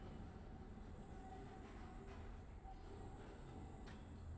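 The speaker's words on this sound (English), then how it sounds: "jump on the tram" A tram ride in the video game Abiotic Factor: a steady low rumble of rolling rail cars with a faint high whine, continuous and even throughout, with no talk.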